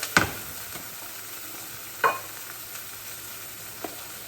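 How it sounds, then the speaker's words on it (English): Pasta is stirred in a pan with charred tomatoes under a steady, quiet sizzle, with two distinct scraping knocks of the utensil and a lighter tap afterward. "So we're gonna go ahead and stir the pasta around."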